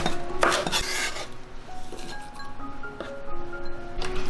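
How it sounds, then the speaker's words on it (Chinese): A kitchen knife taps and chops scallions and ginger on a cutting board in a few quick close strikes, with light clinks of utensils between cuts. "再切些葱段跟姜丝"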